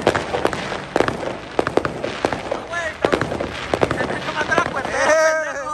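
Fireworks and firecrackers bursting at a Mexican posada celebration, a loud irregular string of sharp pops and bangs, some near and some farther, with people talking throughout.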